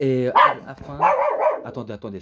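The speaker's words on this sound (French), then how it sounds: "ça c'est mon chien qui aboie" A pet dog barks several times in a home, sharp loud barks in quick bursts mixed with someone talking in French over and between them.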